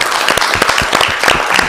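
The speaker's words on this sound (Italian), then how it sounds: "Allora, fatevi un applauso ragazzi" Close, loud applause from a small audience, with distinct individual claps audible in an uneven, lively rhythm.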